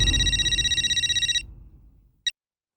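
A telephone bell rings in rapid pulsing bursts for over a second, then stops and leaves a fading low hum and one brief click, loud and close with no talk over it.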